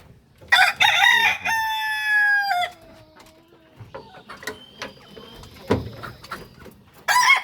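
A rooster crows once, a loud drawn-out call that trails off, followed by quieter clucking and scattered bird sounds nearby.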